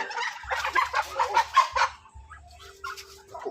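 Chickens cluck close by in a rural backyard, a quick run of throaty, rhythmic clucks followed by a few softer calls, with no talking.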